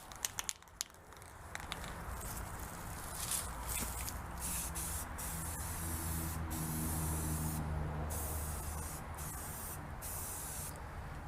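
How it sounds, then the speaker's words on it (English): Rust reformer hisses from an aerosol spray can onto rusty parts of a 1947 MG TC under rebuild, a long steady spray with brief clicks and rattles at the start. "we'll spray it with some rust reformer"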